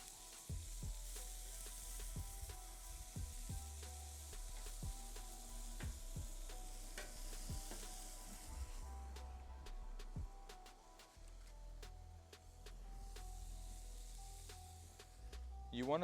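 Smash burgers topped with yellow cheddar and pepper jack sizzle steadily on a Pit Boss griddle, with a continuous frying hiss, scattered spatula clicks and scrapes, and a person talking over it.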